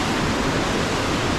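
Himalayan waterfalls pouring down the valley sides into the Langtang stream give a steady, dense broadband rush of falling water, close and continuous with no voices.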